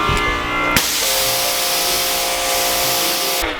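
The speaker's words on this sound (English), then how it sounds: "Take this, set it to mist mode, squeeze a few times." Spray bottle on mist mode spraying car detailing product over a body panel, one loud continuous hissing mist lasting several seconds, close up with no talk.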